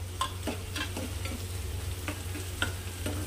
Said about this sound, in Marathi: आणि याला असं छान सॉफ्ट पडेपर्यंत परतून घ्यायचं आहे